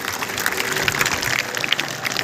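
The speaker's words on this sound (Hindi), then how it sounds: "तो जोरदार तालियां हो जाए उस वीर महान सपूत के लिए" An audience claps for Bhagat Singh at a memorial story event, a short burst of steady, fairly loud applause from a group.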